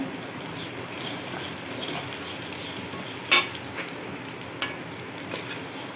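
Onions with cumin and fenugreek seeds fry in a pan, a dense steady sizzle broken by a few sharp stirring scrapes and clinks.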